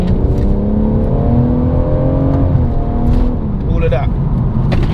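Close and loud, a BMW M140i engine in Sport Plus mode holds a steady, throaty drone whose pitch rises and dips as it revs, with someone talking over it.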